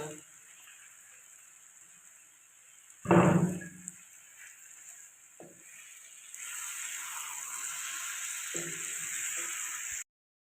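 Meat drops into fried, spiced biryani paste, bringing a brief loud clatter and then a steady hissing sizzle that carries on over low kitchen sounds.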